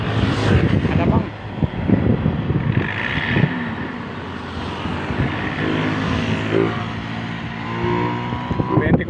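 Motorized bangka boat engine droning as the boat comes in to land, a steady low rumble with shifting pitch, heard at moderate distance under someone talking nearby.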